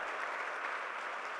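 A church congregation gives strong, steady applause during a service, a dense, even wash of clapping with no pauses for the short moment.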